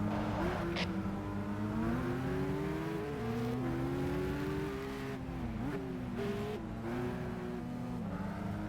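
Ferrari race car in Gran Turismo 5 racing, its engine droning and shifting pitch as it revs up and drops through gears, loud and continuous with tire noise underneath.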